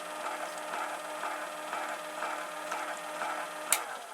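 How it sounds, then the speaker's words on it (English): A 24 volt motor drives a multi saw blade shredder for 3D printed parts, running forward with a steady, fairly quiet mechanical whir and faint rhythmic ticking, ending in a sharp click. "This is a 24 volt motor."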